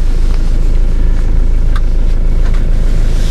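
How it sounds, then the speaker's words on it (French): A 1999 Renault Trafic van engine idles steadily nearby, a constant low rumble with a faint mechanical whine and occasional ticks, no voices. "Là, on entend le moteur."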